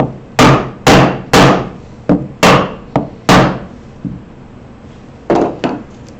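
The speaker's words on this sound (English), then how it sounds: "Could use a wooden mallet." A wooden mallet taps loose wooden cutting board pieces in a clamp, giving about eleven sharp, hollow knocks in an uneven rhythm with short pauses, close and fairly loud.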